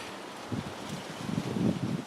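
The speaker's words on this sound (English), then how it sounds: "It's very windy out here." Gusty wind roars and buffets the microphone outdoors, a continuous rumbling hiss that swells and fades slightly, with no voices.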